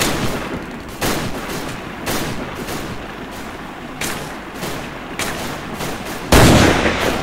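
In the game Commandos Strike Force, rifle shots crack out about once a second, loud and sharp, ending in a heavier blast, with no talk over them.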